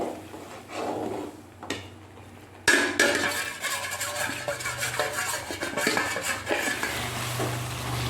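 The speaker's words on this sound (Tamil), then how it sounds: "இப்பொழுது ரவையை போட்டு கிண்ட வேண்டும்." Semolina (rava) being stirred into sugar syrup in a pan for kesari, with soft continuous scraping and stirring and a few light clinks of a metal pan and utensil, close up, no talk.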